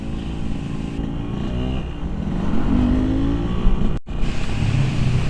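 A Yamaha RX King motorcycle engine runs steadily and revs while riding along Metro Tanjung Bunga road, a continuous loud drone with a rising pitch sweep midway and a brief dropout near the end.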